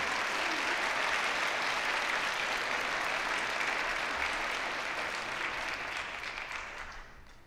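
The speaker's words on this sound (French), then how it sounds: "Applaudissons nos invités d'honneur." An audience at a university graduation ceremony applauds its guests of honour, a dense steady wash of many hands clapping in a large hall that holds loud, then thins and fades toward the end.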